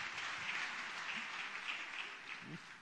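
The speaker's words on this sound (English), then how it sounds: "it's okay to clap now." A crowd claps at a ceremony celebrating 125 years of Zionism, held by the World Zionist Organization. The applause is faint and distant, a soft, even patter of many hands lasting a few seconds with no voices on top.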